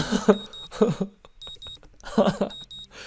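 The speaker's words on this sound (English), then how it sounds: "The sound of an alarm pulls me out of a fitful slumber and into the unpleasant state of wakefulness." Alarm clock ringing in the Katawa Shoujo video game, repeated paired electronic beeps in a steady pattern, heard under a voice talking in bursts between them.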